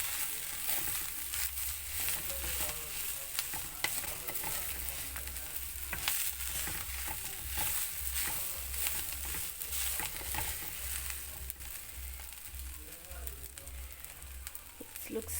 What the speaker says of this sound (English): Mix it and then transfer to a serving bowl.